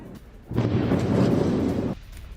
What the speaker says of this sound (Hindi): हमले के बाद रूस के एयर डिफेंस सिस्टम्स एक्टिव हुए